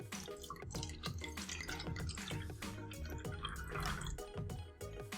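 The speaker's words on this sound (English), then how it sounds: "So let's go ahead and get this poured up." Water poured from a glass bottle of Tahoe artesian water, a continuous close gurgling splash with dripping, bubbling texture throughout, no talk.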